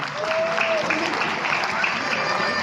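A crowd claps steadily in a large room at a school annual day event, with voices and cheering faintly mixed into the applause.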